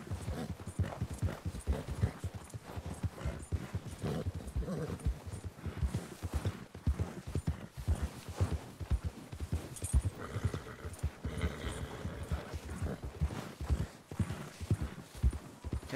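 Horse hooves clip-clopping in a steady walking rhythm on snowy ground in the video game Red Dead Redemption 2, fairly close and moderately quiet, continuing throughout with light ambient wind.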